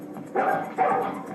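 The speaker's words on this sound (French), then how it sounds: "Ce n'était pas un aboiement agressif." Dog barking at a friend arriving unannounced, two short bursts of territorial, non-aggressive barks close by, with a brief pause between them.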